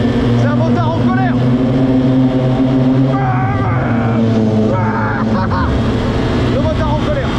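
An angry motorcyclist revs a motorcycle engine on a downtown Los Angeles street, the rising and falling engine drone running continuously under loud nearby talk amid general traffic noise.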